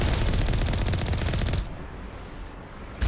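Missile impacts pound the Mako vehicle in the Mass Effect Legendary Edition game: a dense, loud barrage of rapid blasts for about a second and a half, then a sudden drop to quieter rumble with a faint renewed hit at the end.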